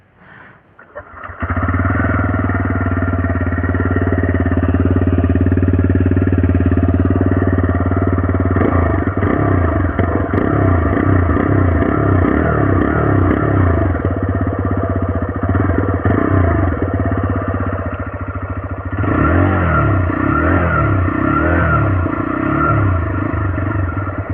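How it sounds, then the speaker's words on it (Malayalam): A TVS Raider 125 motorcycle starts and settles into a close, steady idle, with repeated throttle blips rising and falling in pitch midway and again near the end. "പിന്നെ സൗണ്ടൊന്നും നമുക്ക് കേട്ടു നോക്കാം വണ്ടിയുടെ"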